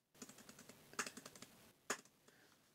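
Typing on the keyboard of a 2024 HP Chromebook Plus 14a: quiet, clicky keystrokes in an uneven series, with two firmer key presses standing out, close and without speech.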